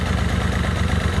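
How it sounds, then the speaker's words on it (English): Honda Spree scooter with a big bore kit idling sluggishly, a steady low rumbling putter close by with no talk. "It just feels a little sluggish when it's just idling."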